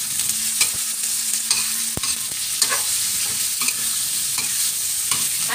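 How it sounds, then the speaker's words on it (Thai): Tofu pieces and garlic stir-fried in a hot pan, a steady close sizzle with repeated scraping and clacking of the spatula throughout, no talking. "พอกระเทียมหอมเราก็จะใส่เต้าหู้ที่เราหั่นเป็นชิ้นไว้ลงไปจ้ะสูตรแม่น้องวุ้นนะคะแล้วก็ผัดเต้าหู้ค่ะ"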